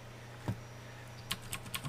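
Computer keyboard arrow keys tapped while nudging a layout in design software, one soft keystroke followed by a quick run of several crisp taps, close and faint over a low electrical hum.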